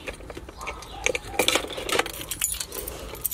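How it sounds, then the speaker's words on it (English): A set of keys is grabbed and jangles in a series of light metallic clinks, loudest in the middle of the clip, while wiring work on a truck's new sound system is underway. "I'm gonna grab my keys."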